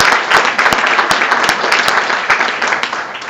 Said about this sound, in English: I'd like to give them another round of applause.